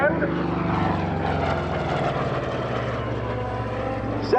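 A propeller warbird flies past at the Boundary Bay Airshow 2019, its engine giving a loud, steady drone that holds through the whole stretch without a break.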